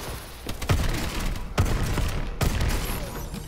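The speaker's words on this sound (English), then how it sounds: "I shot him 3 times and he died" Gunfire rings out in Call of Duty: Black Ops 3, three sharp shots spaced about a second apart over a dense, loud game background.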